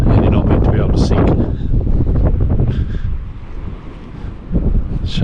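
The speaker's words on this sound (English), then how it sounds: "As you can tell, it's bloody windy, freezing." Strong coastal wind gusts roar and buffet the microphone near the Pool of Siloam at Beachport, South Australia, loud and continuous with brief lulls, while a voice talks over it.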